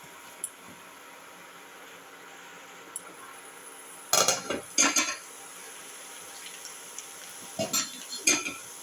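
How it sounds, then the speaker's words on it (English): Chili powder and lamb are sautéed and stirred in a pot, with scraping and clinking spoon strokes in short clustered bursts over a faint sizzle. Quiet stretches come between the strokes. "Thoroughly saute and mix."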